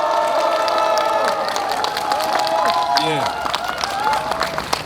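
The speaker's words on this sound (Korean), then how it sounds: "날씨가 추워서 환호가 좀 덜한 것 같아." Crowd cheering and clapping at an outdoor press conference for a district mayor candidacy in cold weather, moderately loud and fairly thin, with a voice speaking briefly over it.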